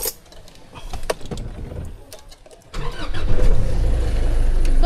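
A motorcycle engine kicks into life after faint handling noises, roaring up loud and close, then settling into a steady, throbbing idle.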